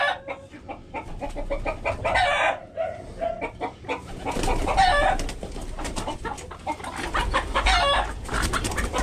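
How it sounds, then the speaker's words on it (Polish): Bantam chickens cluck and squawk busily nearby on a farm with pigeons, several birds calling over one another in agitated, overlapping bursts. "To są gołębie i też takie kurki małe, cwergi, tak?"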